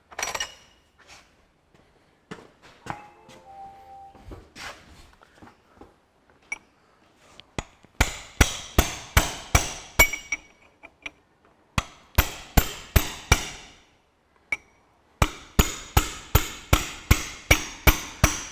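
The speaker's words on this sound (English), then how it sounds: "Now I'll get a hammer." Sharp metallic hammer blows ring out close up while undoing lock tabs on a Ferguson TE20 tractor hydraulic lift cover, first a few scattered taps, then rapid rhythmic bursts of striking with short pauses between.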